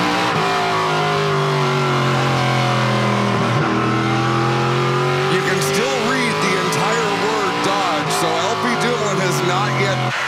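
Onboard a NASCAR Pinty's Series stock car racing on track in a 2019 Prairie Thunder twin race, a loud steady engine drone with shifting revs and pitch sweeps from nearby cars, under a commentator's talk.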